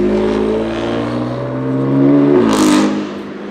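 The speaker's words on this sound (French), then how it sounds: "Le passage de rapport était sonore." A car passes with a steady engine drone, and a sharp gear change breaks in with a brief clattering burst before the revs settle again, close and without talk.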